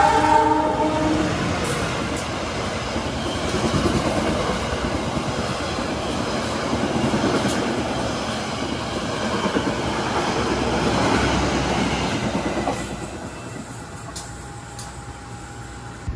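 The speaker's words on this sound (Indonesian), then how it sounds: "Dan baru saja kereta api Sancaka ngebut melintas langsung stasiun Kertosono ya" Sancaka passenger train speeding through Kertosono station without stopping, a loud rushing roar with rhythmic wheel clatter and an early horn blast, fading toward the end as the train passes.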